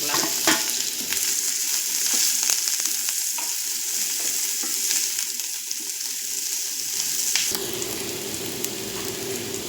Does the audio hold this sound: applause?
no